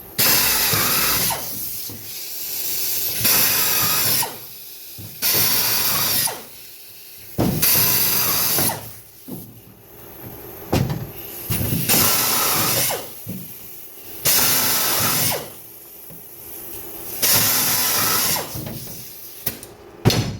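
A power drill whirs in repeated bursts, stopping and starting every couple of seconds, loud and close as pilot holes for stainless steel screws are bored one after another along a canoe keel, about every 3.5 to 4 inches.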